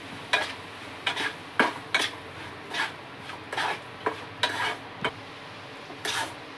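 Semolina (rava) dry-roasting in two spoons of ghee for upma, heard as rhythmic spoon strokes scraping through the grains in short bursts about once a second over a faint background.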